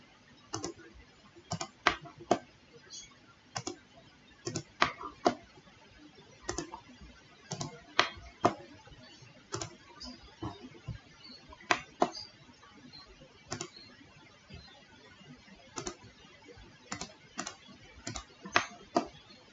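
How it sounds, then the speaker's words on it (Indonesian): A computer mouse clicks repeatedly while points are digitized on screen, sharp quiet clicks coming irregularly, sometimes in quick pairs, close up against a faint background hush. "Langsung saja diklik-klik pakai mouse."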